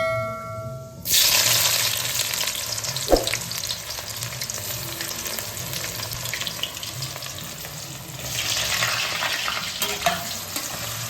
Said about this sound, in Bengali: এবার আমি এই তেলের মধ্যে পেঁয়াজ কুচিটা দিয়ে দেবো।